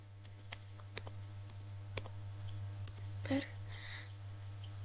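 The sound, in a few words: typing a root password on a computer keyboard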